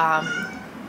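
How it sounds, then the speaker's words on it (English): A cat meows once, a short high-pitched cry that trails off, close by with a faint background hum. "when Bramble meows, I literally cannot think straight"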